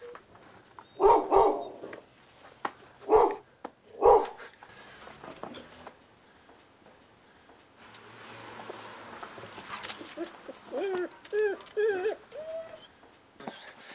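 A pack of feral dogs barks in several sharp bursts early on, then yelps and whines further off as the clip goes on, with birds and cooing pigeons in the outdoor background.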